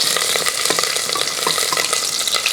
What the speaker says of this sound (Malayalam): ഒരു അഞ്ചാറ് വെളുത്തുള്ളി ചെറുതായിട്ട് അരിഞ്ഞു വെച്ചിരിക്കുന്നത് ഒരു മൂന്നാല് പച്ചമുളക് ഇതുകൂടെ അങ്ങോട്ട് ഇട്ട് കൊടുക്കുക ഒന്ന് ഇളക്കിയിട്ട്